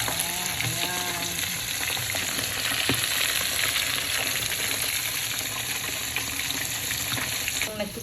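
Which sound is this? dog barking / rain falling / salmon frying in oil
salmon frying in oil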